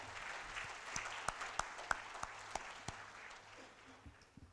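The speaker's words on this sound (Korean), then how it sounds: "큰 박수 부탁드립니다" An audience at an Indo-Pacific leadership conference in India applauds, with scattered, fairly distant claps rising and then thinning out, quiet and reverberant against a low hum.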